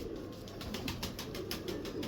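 Pet pigeons in a coop cooing in soft repeated rolling calls, several birds overlapping in a steady rhythm close by, with no talk over them.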